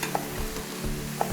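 A stir fry with lime zest sizzles steadily in a hot pan while being stirred, with a couple of light utensil taps against the pan and no talking.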